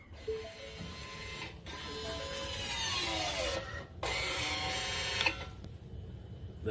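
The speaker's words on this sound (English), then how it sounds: "That was that e-brake doing this thing." The electric parking brake motor on a Ford Edge in service mode makes a loud mechanical whirring grind in two long bursts, separated by a brief pause, with a short softer tail afterward.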